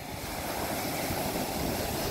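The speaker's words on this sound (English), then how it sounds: "These waves are really kicking up a lot of sand on the beach and covering all the good rocks." Waves breaking on a Lake Michigan beach, churning up sand over rocks, heard as a continuous loud rushing wash of surf with no voices.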